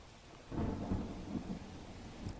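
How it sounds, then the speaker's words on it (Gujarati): Heavy monsoon rain pours steadily in north Gujarat while deep thunder rumbles close by, swelling after a quieter start and rolling on without any voices. "આપ જુઓ ઉત્તર ગુજરાતમાં વરસાદ જે રીતે વરસી રહ્યો છે"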